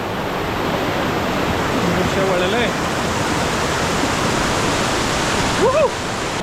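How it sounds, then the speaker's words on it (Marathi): Large waterfalls in the Adrai jungle of Malshej Ghat roar as a loud, constant rushing wall of water, with a few faint bird calls and brief voices over it. "तिथे मोठे मोठे धबधबे पडत आहेत"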